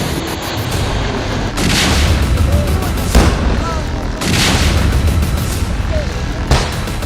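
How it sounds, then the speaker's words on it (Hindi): Repeated loud explosions from drone bombs, rocket launchers and IEDs during the Anantnag military encounter, with deep rumbling tails, spaced a couple of seconds apart, over continuous low roar. "एक और धमाका,"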